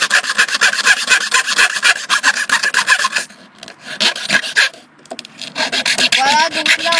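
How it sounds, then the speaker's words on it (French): A steel metal file rasping across plywood in a woodworking stool build, rapid repeated scraping strokes close up and loud, with a short pause midway before the filing resumes. "ça c'est pas une lime à bois au départ, c'est une lime à acier donc mais ça marche quand même"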